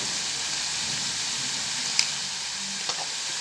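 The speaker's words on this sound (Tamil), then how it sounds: "இது கொஞ்சம் நேரம் வதங்கி வரட்டும்." Onions sautéing in a pan with a little salt make a continuous soft hiss and sizzle, with a couple of small clicks from stirring and no talk.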